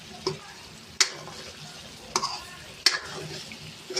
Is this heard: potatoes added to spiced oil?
yes